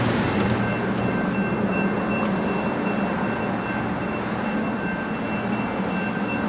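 A train rolls past on rails at a fairground, a steady, loud rumble holding for the whole stretch with faint wheel squeal and high tonal whines over it, no talk.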